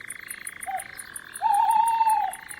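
Frog croaking at night in the Baronnies of Provence, one sustained warbling croak after a brief short call, fairly near, over a steady chorus of insects.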